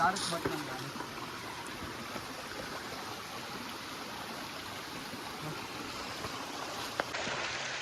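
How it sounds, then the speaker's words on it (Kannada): A small mini waterfall on the Kumara Parvatha mountain trek in Karnataka, a continuous steady rushing of falling water heard close and unbroken, with a voice briefly speaking over it. "ಇದೇ ಮಿನಿ ವಾಟರ್ ಫಾಲ್ಸ್."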